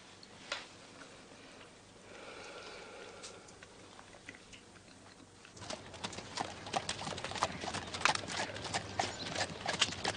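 Horse hooves clip-clop in an irregular, growing patter, fairly close in a quiet outdoor setting; a lame horse, the footfalls sharpening and thickening in the second half with no talk.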